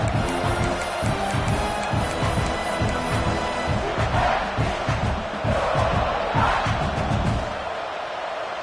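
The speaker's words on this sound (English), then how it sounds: "This crowd bringing the energy and noise early." A large stadium crowd at an American football game roars continuously, with rhythmic chanting and stomping beats underneath and loud swells of cheering throughout.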